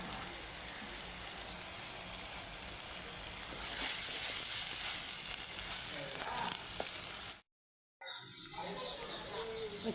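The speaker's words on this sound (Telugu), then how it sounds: "ఇప్పుడైతే అల్లం వెల్లుల్లి ముద్ద వేసుకొని పచ్చివాసన పోయేదాకా వేయించుకుందామండి" Ginger garlic paste frying in a pan, a steady bright sizzle that swells louder midway, then drops out briefly before the hiss resumes, with faint background noises.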